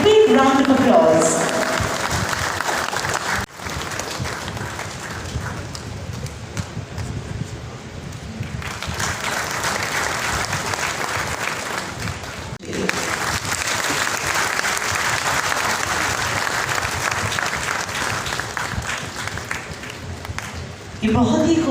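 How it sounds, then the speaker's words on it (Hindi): Sustained audience applause fills a national conference of agricultural and rural development banks during an award presentation, a steady dense clapping that runs on for over twenty seconds with brief dips, a voice audible at the start. "a big round of applause"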